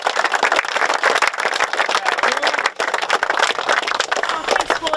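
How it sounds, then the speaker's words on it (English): After a team game, players and spectators applaud in dense, crackling clapping, close and loud, with voices and shouts mixed in throughout. "Give yourselves a big round of applause"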